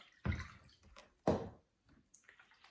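Cold water splashes and sloshes into a big bowl in two distinct pours, followed by faint trickling and drips, with no voices.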